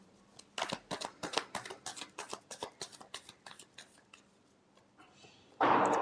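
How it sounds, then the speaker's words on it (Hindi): A deck of cards being shuffled by hand, a fast run of crisp riffling flicks that slows and thins out. A short burst of louder rustling comes at the end. "Last shuffle."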